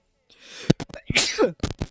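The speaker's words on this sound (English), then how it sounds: "As I sneeze, oh my gosh." A single close, loud sneeze bursts out amid a few short breathy sounds and small noises just before and after it.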